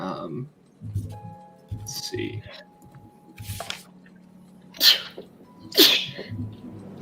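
A single close, sharp sneeze rises out of casual conversation, with people talking around it before and after.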